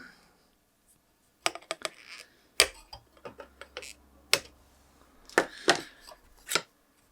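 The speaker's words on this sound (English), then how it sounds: "And we cut these long legs, we don't need those." Wire cutters snip the long legs off resistors soldered to a circuit board. Several sharp, close clicks come at irregular intervals in a quiet setting, with a few softer ticks between them.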